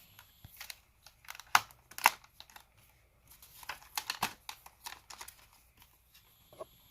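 Latches on the chin guard of a Bell Super 3R MIPS full-face helmet being undone: a run of small plastic clicks, snaps and crinkly handling noises, close and quiet, with brief pauses between bursts.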